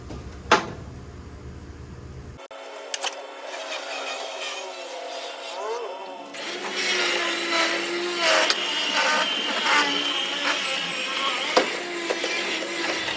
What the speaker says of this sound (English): So I'm gonna set you guys on the tripod and we'll see if we can safely winch this thing down.